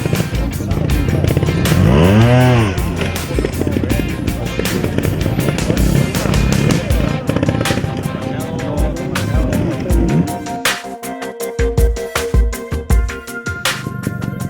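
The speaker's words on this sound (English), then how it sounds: "Here we see Matteo Grattarola demonstrating part of a section with movements of both wheels in different situations." Trial motorcycle working through a section, engine revving and blipping in short bursts with rising and falling pitch, loud and close, with tire scrabbles and a change to choppier throttle stabs toward the end.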